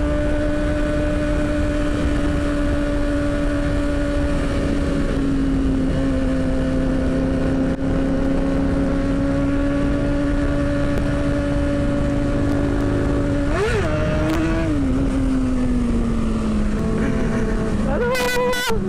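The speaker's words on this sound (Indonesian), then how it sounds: "Kita coba tarik gas." A Kawasaki ZX6R engine drones steadily under the wind of riding on a road between Makassar and Pangkep. The pitch dips and rises as the throttle opens near the end, with a voice talking over it.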